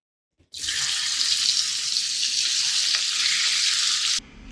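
Fish heads frying in hot oil give a loud, steady broadband sizzle that holds for about four seconds, then cuts off abruptly; no one speaks.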